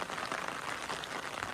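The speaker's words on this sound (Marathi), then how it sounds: "पावसानं परत चालू केला" Steady rain falls in rural Konkan farmland, a continuous, even hiss of drops on surfaces at moderate loudness with no voices.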